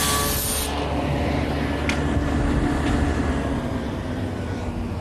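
A saw cuts wooden rails for a desk in a woodworking shop, a steady, loud broadband roar with a brief brighter burst at the start that holds unbroken for the whole stretch.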